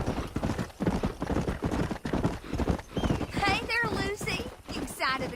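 Horse hooves clip-clopping at a steady walking rhythm in a Western setting from the Red Dead Redemption video game, close and continuous under people talking, with a whinny or other high voiced sounds near the end.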